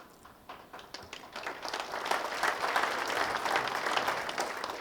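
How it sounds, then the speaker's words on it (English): Audience applause at a weekly patriotic Friday forum meeting, starting with a few scattered claps and swelling into a steady, dense round of clapping from the crowd, moderately loud and without talk. "We applaud you all."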